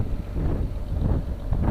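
Steady wind gusting across an open hay field of orchard grass and alfalfa, a low, rumbling buffet with slight swells, close and fairly loud, with no other sounds.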